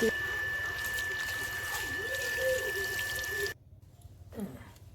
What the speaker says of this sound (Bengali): আলুটাকে ভালো করে পরিষ্কার করে ধুয়ে নিতে হবে